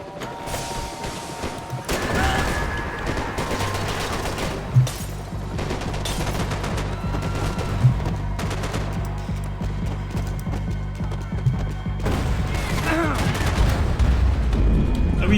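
Loud, sustained gunfire from Max Payne 3 fills the scene, with bursts of shots, occasional sharp louder cracks and booms over a dense battle rumble, with some voices mixed in.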